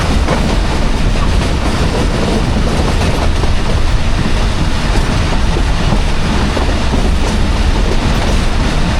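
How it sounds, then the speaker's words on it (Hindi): The 13 Up Awam Express train, led by locomotive 8307, approaches Taxila Cantt Junction with a loud, continuous rumble and clatter of wheels on rails, heard up close from on board without a break. "3:40 पे टेक्सला कैंट जंक्शन पे अप्रोच बना रही है 13 अप अवाम एक्सप्रेस"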